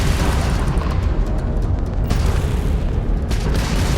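A homing missile launches at an enemy ship in the Starfield space game, a dense, continuous low rumble of booming blasts and engine roar filling the whole stretch.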